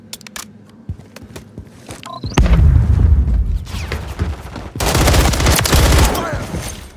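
Gunfire in the Warzone video game: sharp single shots, then dense bursts of automatic fire and booming blasts, loud and close, with brief voice callouts mixed in.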